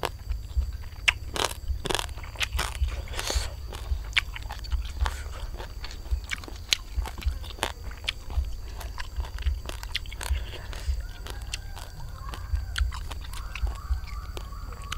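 Close, wet chewing and crunchy bites of a spicy Thai santol salad with crab and fermented fish, repeated irregular mouth sounds with occasional scrapes.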